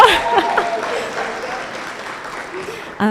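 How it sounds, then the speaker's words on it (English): Scattered clapping from the audience at an artist talk, with voices and a speaking voice over it at the start; the clapping fades and thins out, then a voice cuts in at the very end. "Yes, please clap."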